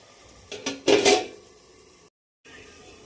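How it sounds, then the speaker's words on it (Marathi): A lid set onto a pan of brinjal curry to steam, a few close metallic clanks and a brief rattle, then quiet. "ती झाकण ठेवते आणि 5 मिनटं वाफवून घेते ह्यांना"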